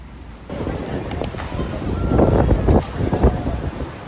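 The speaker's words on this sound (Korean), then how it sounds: "바람이 너무 많이 불어." Strong wind buffets the microphone outdoors on the way to a baseball game at Jamsil, a steady rumbling gust with broadband noise that swells toward the middle, with faint voices in the background.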